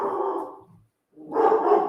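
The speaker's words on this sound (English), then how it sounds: "There's my bad dog." A dog barks indoors during a yarn review, two bursts of fairly loud barking separated by a brief silence.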